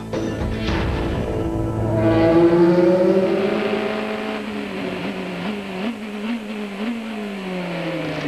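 Race cars at the ALMS Adelaide 2000 endurance race, engines screaming loudly as they accelerate and shift through gears, their pitch climbing and falling as they pass close by.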